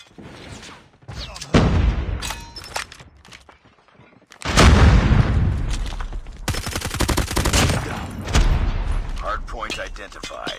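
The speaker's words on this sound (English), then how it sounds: "Grenade!" Gunfire and a grenade blast ring out in a Call of Duty: Mobile ranked multiplayer match: scattered shots early, then a heavy booming explosion followed by sustained rapid automatic fire, with game voice announcements over the action.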